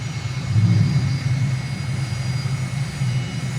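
Landing gear rumbles on an aircraft in Microsoft Flight Simulator during an approach to Castries, Saint Lucia: a continuous low, droning roar blended with engine hum, steady and fairly loud with no talking.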